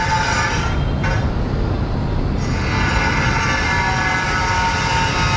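Train passing on an elevated railway along Nguyen Trai street, heard from an apartment rooftop as a loud, steady rumbling roar that fills the whole scene continuously.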